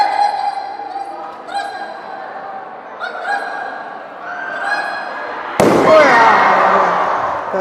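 A balloon popped at a school motivational session: a single sharp, loud burst near the end. Before it come squeaky tonal rubbing sounds, and a noisy burst of crowd reaction follows.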